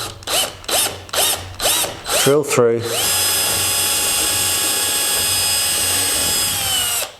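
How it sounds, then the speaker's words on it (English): Cordless power drill boring holes alongside a model train track: several short bursts of the motor spinning up and stopping, then one long continuous high whine of drilling, loud and close. "my plan is to basically come along here, take my drill"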